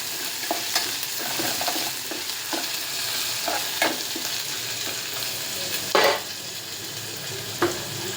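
Vegetable curry with coriander fries in a pan under a steady sizzle, punctuated by occasional sharper scrapes and knocks of a spatula stirring, close and moderately loud.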